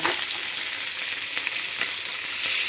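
Fish pieces fry lightly in a pan for a Bengali coconut-milk fish curry, giving a steady, dense sizzle with a few soft crackles on top. The sound is close and constant, with no talking.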